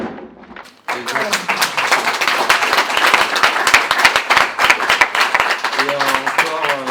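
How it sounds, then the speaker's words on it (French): Audience applause breaks out at a comedy masterclass tribute, starting abruptly after a quiet moment and continuing as loud, dense clapping, with voices talking over the end. "un applaudissement pour rendre hommage à Jean-Paul Belmondo"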